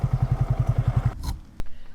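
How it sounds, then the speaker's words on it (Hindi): A motorcycle idles nearby with a quick, steady thumping beat as it is parked at Kalapani Nature Park in northeast India, then the engine cuts out, leaving a short lull and a single sharp clunk. "बाइक को करते हैं पार्क और चलते हैं अंदर।"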